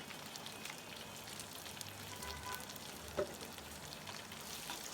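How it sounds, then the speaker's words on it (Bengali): Spice paste fries in a pan for a broiler chicken roast, a faint, steady crackling sizzle with one small clink partway through and no voices. "তাও যেন একটু তাড়াতাড়ি পেস্টটা ভাজা হয়ে যায়"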